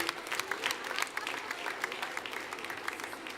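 An audience at a cat show finalist presentation claps steadily, a dense patter of applause from a crowd filling the whole stretch.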